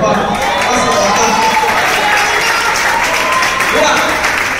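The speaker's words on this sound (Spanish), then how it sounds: "Yo quiero que usted reciba con un buen aplauso a mi papá, José Claudio González" Concert audience applauding steadily at a Christian reggae show in Spanish, a dense, continuous wash of clapping and crowd noise at close range, holding level throughout with voices mixed in.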